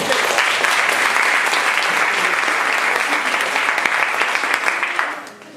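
A theatre audience applauds loudly and steadily for about five seconds, a dense wash of clapping that fades slightly at the end.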